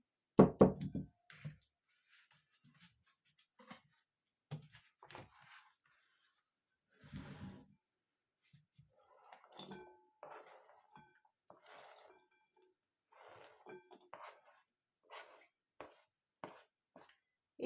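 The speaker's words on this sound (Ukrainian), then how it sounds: "Капустку я нарізала дрібненько. Тепер відправляю в салатницю." Finely chopped cabbage is tipped and scraped into a salad bowl: a few loud knocks and clinks up front, then scattered soft taps, rustles and light dish contacts spread across the quiet kitchen.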